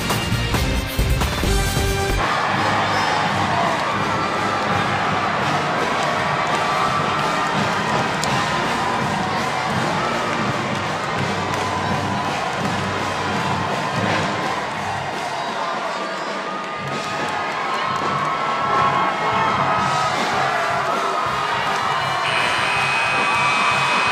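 A raucous basketball crowd at the McCarthy Athletic Center in Spokane during a Gonzaga vs Santa Clara game, with loud, continuous cheering and roaring that swells and dips briefly before surging again.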